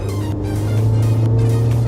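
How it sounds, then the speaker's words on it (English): Steady car engine hum with constant road rumble, a continuous droning from inside a moving sport-variant car, engine noise loud like a taxi. "This engine noise, reaching taxi level, and the road noise."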